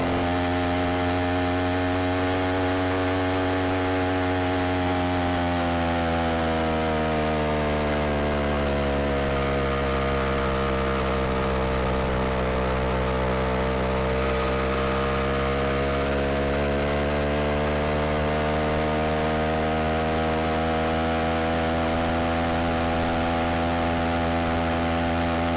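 Motorized bicycle engine with a 44-tooth rear sprocket pulling up a hill, a steady buzzing two-stroke drone that swells and sags slightly with load, continuous and close for the whole stretch with no talk.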